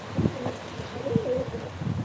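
Soft, low cooing from pigeons nearby, a few short rounded calls spaced across a quiet background.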